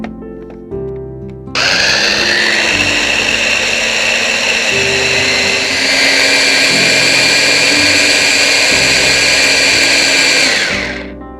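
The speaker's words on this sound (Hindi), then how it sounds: "इसे हम एक बार ब्लेंड कर लेंगे" A countertop blender whirs loudly and steadily for about ten seconds, blending eggs with half a cup of powdered sugar, starting abruptly after a brief clatter and winding down at the end.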